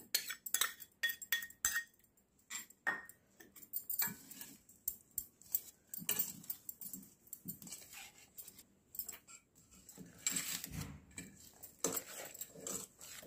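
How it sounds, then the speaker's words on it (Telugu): Grated mango pickle is mixed with crushed garlic in a bowl: quiet, irregular clinks, taps and scrapes of a utensil against the bowl repeat in uneven bursts. "ఇప్పుడు ఇది వేసేసుకొని ఇది బాగా కలుపుకుందాం"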